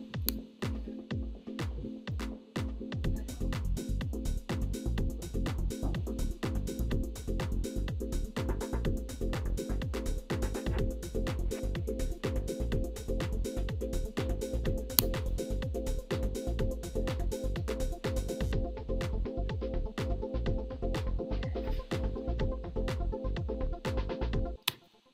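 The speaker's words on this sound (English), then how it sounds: "So this arpeggiator is still running" A synth arpeggiator runs in a steady, fast rhythmic pattern with a sustained bass line underneath, loud and continuous with no voices, ending abruptly.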